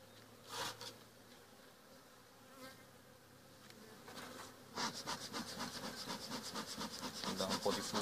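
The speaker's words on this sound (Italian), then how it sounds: "Mi dà un po' di fumo per non andare via le api da dietro." Honeybees buzz around an open hive during hive work, a soft, dense drone that grows fuller and louder in the second half, with no talking.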